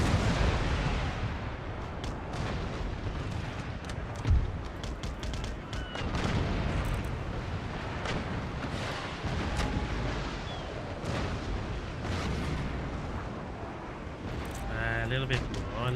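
In Empire: Total War, a warship fires its cannons in a broadside, producing repeated deep booms and rumbling blasts that run through the whole stretch. Battle noise sits underneath throughout, and a sharp peak stands out near the middle.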